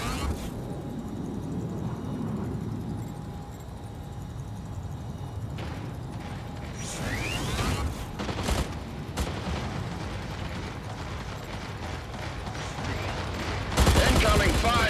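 Weapon fire from a Mech Arena match: bursts of shots and heavy impacts thud through a busy mechanical din, with a sharp loud volley breaking out near the end.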